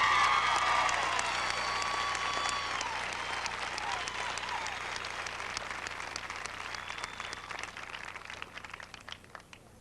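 A graduation ceremony audience applauds in a large hall. The dense clapping is strongest at the start and slowly thins to scattered claps with faint crowd murmur.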